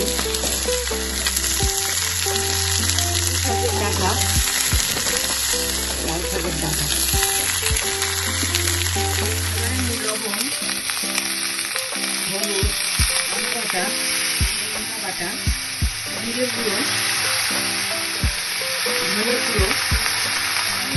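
Pumpkin and onion fry in a pan with five-spice for a fish-head chorchori, crackling in a loud continuous sizzle with stirring scrapes, while a low hum runs beneath for the first ten seconds.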